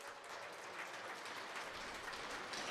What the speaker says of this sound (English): claps and applause erupts here in St. Albert